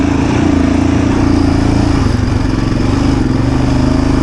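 Yamaha Raptor 700R ATV with a 700cc engine lugging in first gear up a trail climb, a steady, loud, close low-pitched thump and drone that holds throughout without pause.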